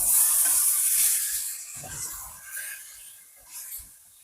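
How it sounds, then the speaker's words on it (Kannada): Chopped tomato tipped into a sizzling biryani pan of chicken, oil and turmeric, giving a hissing, crackling fry that surges at the start and again briefly near the end, with soft stirring between. "ಹಾಫ್ ಟೊಮೆಟೊ ಹಾಕ್ತಾ ಇದ್ದಾನೆ."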